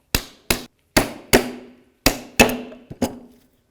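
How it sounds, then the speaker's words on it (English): Seven sharp metallic hammer blows tapping out rear brake pads on a 2005-2009 Subaru Outback, irregularly spaced, each ringing briefly before the next strike; close and loud with no talking. "Get a hammer or something equivalent. You're just going to tap them out."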